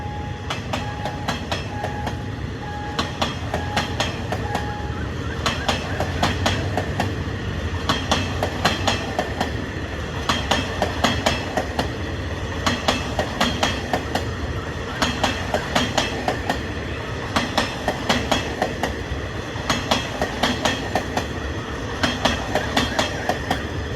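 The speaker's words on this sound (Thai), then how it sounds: "กรุงเทพเชียงใหม่ นะฮะ รถ จักรเป็นฮิตาชิ 4 5 1 3 นะครับผม" An express passenger train from Bangkok to Chiang Mai, hauled by Hitachi locomotive 4513, rolls through a road level crossing in the evening, its wheels beating a steady clickety-clack rhythm close by, with engine rumble and no talk.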